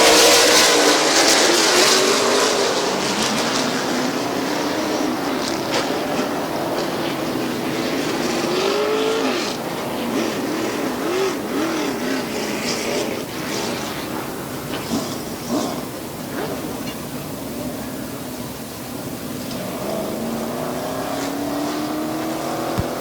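Race cars roar away at the green flag of a 50-lap feature at Midvale Speedway, with loud, layered engines rising and falling in pitch as the pack accelerates and sweeps past, steady and sustained throughout with no speech.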